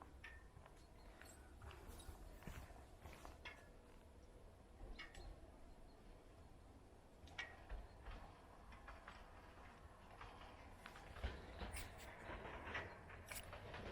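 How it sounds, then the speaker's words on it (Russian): A train passes near Lake Emosson, heard as a faint, distant rumble with soft clicking rail noise rolling on steadily outdoors. "А это мой поезд, кажется."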